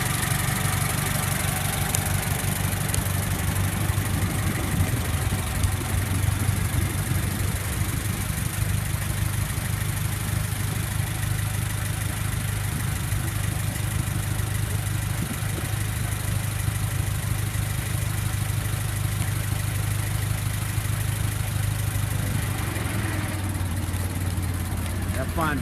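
A 1926 Ford Coupe engine idles steadily with a low rumble at an outdoor gathering, running continuously beneath nearby voices talking throughout.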